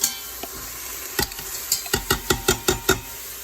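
Food sizzles in a frying pan while a utensil stirs and scrapes it in a quick series of about ten close, sharp scraping knocks over a steady frying hiss, with no talk.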